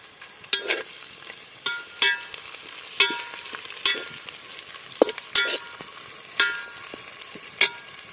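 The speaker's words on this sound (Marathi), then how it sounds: "आणि आता लगेच आपण बारीक करून ठेवलेली मिरची यामध्ये टाकून देणार आहोत तर कांदा आता तळून होत आलेला आहे" Chopped onion frying in a pan with finely chopped green chili, sizzling steadily while a spoon stirs and scrapes at irregular intervals, close up with no talking.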